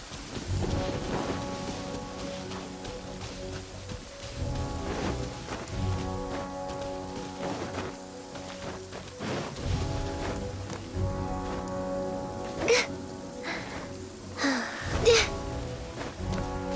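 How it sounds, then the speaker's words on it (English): Rain falls steadily on a courtyard in the video game Genshin Impact, a dense patter with occasional rumbles of thunder, blended with soft background music and no talking. "I love listening to the rain from the courtyard."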